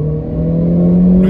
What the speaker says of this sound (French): On est en première, pied au plancher.